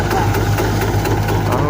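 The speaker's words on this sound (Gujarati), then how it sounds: "તો હવે જો આવી ગયું બીજું ટ્રેક્ટર એકદમ પંજાબી મોડીફાઈ" A modified Punjabi-style Eicher tractor engine idles with a close, steady low rumble and rhythmic pulsing throughout, while someone talks over it.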